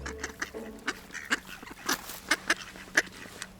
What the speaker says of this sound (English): These ducks are so funny, they're like, come give us food.